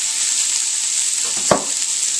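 Chopped vegetables and parsley tumble into a soup pot on the stove, setting off a steady close sizzle with a brief soft thump as they land.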